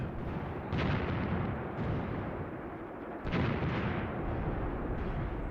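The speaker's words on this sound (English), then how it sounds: "There's the odd burst of machine gun fire from back in the trees." Distant machine gun bursts sound from tree lines in the WWII tactical war game Graviteam Tactics: Mius Front, with two or three muffled rattling bursts rising over a steady hiss of battlefield ambience.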